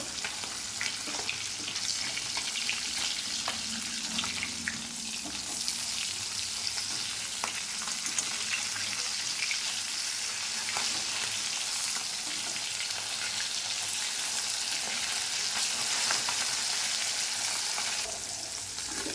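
Continuous sizzle and crackle of fish frying in a pan, steady and fairly loud, with faint clinks of a utensil now and then.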